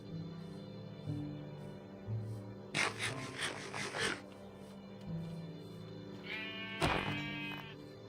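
Minecraft sheep bleat in short nasal calls, a burst of repeated bleats followed by another a few seconds later, clear over soft in-game ambience.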